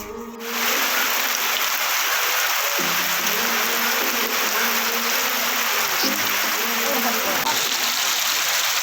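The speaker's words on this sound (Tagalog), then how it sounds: "Sobrang lakas ng ulan" Heavy rain pours down in Iriga City in a loud, constant hiss, with a low hum and faint tones underneath throughout.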